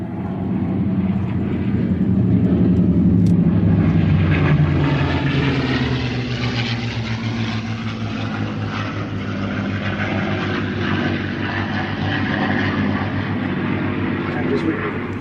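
Vintage propeller aircraft flying at the Duxford airfield, a steady loud drone of piston engines with a slowly shifting pitch as they pass, while a commentator talks over the noise.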